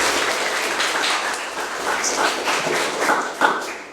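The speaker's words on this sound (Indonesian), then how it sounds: "Tepuk tangan untuk Renaldi." A classroom of students applauds a classmate after his presentation on fiber optics, a continuous patter of clapping with a few louder taps and thumps near the end.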